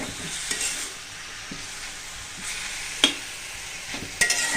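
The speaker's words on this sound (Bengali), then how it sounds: "ধনিয়া পাতা, মরিচ, পেঁয়াজ, রসুন সব একসাথে কিন্তু ভালো করে ভাজা দিতেছি ভর্তা করার জন্য" A pan of coriander leaves, green chili, onion and garlic sizzles gently while being fried for bhorta, with occasional sharp scrapes and clinks of a spatula stirring up close.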